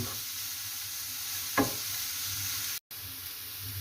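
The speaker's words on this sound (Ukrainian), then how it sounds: "Ось трошки ми піджарили вже морку з цибулькою" Carrots and onion fry gently in a pan, giving a steady low sizzle throughout with one brief stir or knock partway through and a momentary cut near the end.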